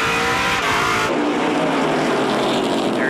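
Stock cars in a 2019 NASCAR Pinty's Series race roar back up to speed on a restart, loud engines blaring together as the pack surges past, with tire noise and no talk.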